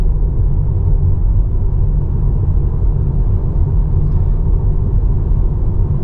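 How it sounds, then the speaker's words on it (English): A Tesla on Autopilot accelerating hard along a road, heard as a loud, steady low rumble of road and wind noise from inside the cabin, continuous with no speech. "now it starts accelerating again. Yeah, and now it accelerates really hard as well"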